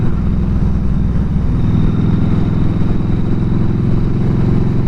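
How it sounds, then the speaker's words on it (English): A 2007 Yamaha V-Star 1300 cruiser motorcycle rides out on a cold April day, its engine a steady, loud low rumble that holds evenly throughout with no talk. "Riding out on the bike in the cold by yourself."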